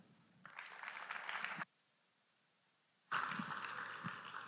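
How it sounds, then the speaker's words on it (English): Audience applause for two debate teams at a youth meet, a burst of clapping that stops, a pause of near silence, then a second loud round of clapping resumes. "One more big round of applause for both the teams."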